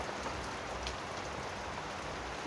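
Rain falling steadily over a village during a thunderstorm, a dense even hiss of drops close by that goes on without a break and without talk.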